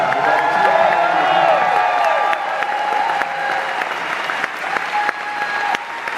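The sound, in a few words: audience applauding and cheering in theatre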